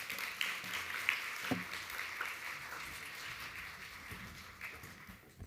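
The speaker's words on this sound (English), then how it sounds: "Let's welcome her with some applause." Audience applause at an inclusion summit workshop welcoming a speaker, fairly quiet and a little distant, a scattered patter of claps holding steadily throughout.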